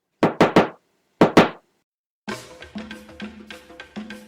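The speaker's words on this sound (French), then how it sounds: "quand on frappe à ma porte" Knocking on a home door: two sharp bursts of three and two raps, then a quieter rhythmic tapping continues under a faint musical backdrop.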